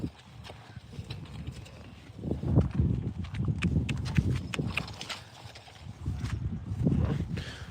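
Shod horse hooves clip-clop on wet, muddy ground, several uneven steps from a few horses at fairly close range, with some shuffling and no talking.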